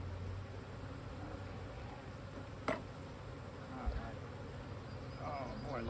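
Honeybees swarm and buzz around a beekeeper's veil during a hive inspection, a steady close-up hum that runs the whole time with a couple of brief knocks.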